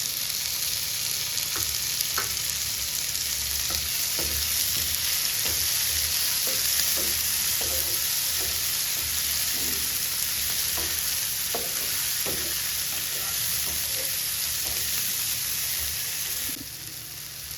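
Small onions and tomato frying in a pan, a soft continuous sizzle with scattered scraping stirs and clinks, close and quiet, easing off at the very end.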